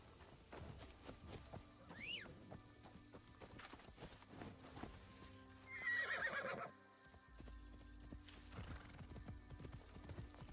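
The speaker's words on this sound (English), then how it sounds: "It's amazing how scared of bushes this horse is." Horse in the Assassin's Creed Shadows video game clip-clopping along with hoofbeats and a snorting whinny midway, set in a busy ambient game soundscape.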